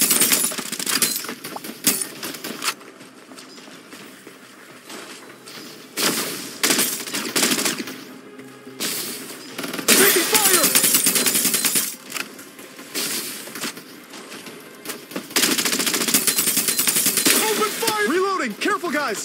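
Gunfire in the battle royale video game Farlight 84: bursts of automatic shots and impacts with glassy clinks, separated by pauses, mixed with in-game voice callouts.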